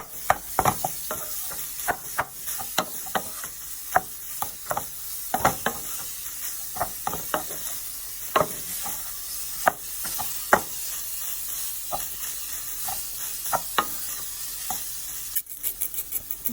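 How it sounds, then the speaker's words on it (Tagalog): Rice is stirred and tossed into buttered salmon and vegetable fried rice in a hot pan, a steady close sizzle broken by repeated scraping strokes of the spatula against the pan, without talk. "Ihalo na ang rice."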